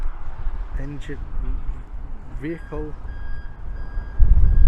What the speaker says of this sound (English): We've got one coming out now, look.